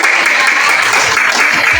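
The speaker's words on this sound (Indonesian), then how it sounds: "Oke, beri tepuk tangan." A classroom of students claps in a brief burst of applause, a dense, loud patter of many hands close by for under two seconds.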